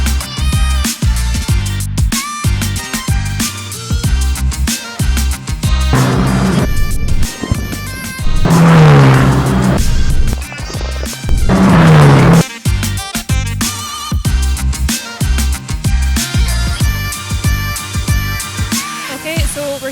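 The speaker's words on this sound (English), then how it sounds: "Right now on track we've got the GB3 Championship, which of course came before GB4. And the noise is amazing." GB3 Championship single-seater race cars lapping Oulton Park, engines screaming loud and near as they pass, with rapid gear-change cuts and two strong drive-by surges, the roar continuous throughout.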